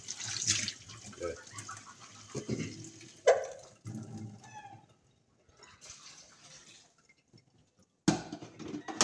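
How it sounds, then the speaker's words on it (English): Water poured into a cooking pot holding pumpkin and carrot, giving splashy, gurgling bursts that start and stop several times close up, with kitchen clatter between them. "I'm gonna put a little bit more water in my pot."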